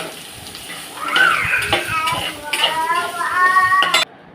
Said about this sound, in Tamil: பீட்ரூட்டை போட்டு நல்லா வதக்குங்க